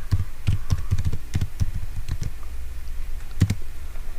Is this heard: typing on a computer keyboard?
yes